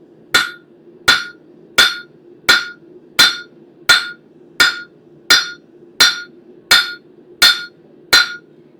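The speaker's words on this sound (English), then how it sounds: "So we are going to start on the horn of the anvil this time." A stainless steel spoon blank is hammered on the horn of an anvil: twelve evenly spaced, ringing metallic strikes close by, each with a sharp attack and short decay, over a low steady hum.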